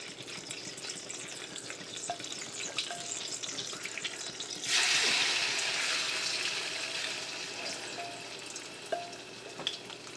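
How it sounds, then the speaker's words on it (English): Marinated beef drops into hot oil in a pan and sets off a sudden loud sizzle midway, which stays steady and slowly eases, with a few faint clinks around it and no talking. "We're going to add our marinated beef that we have marinating."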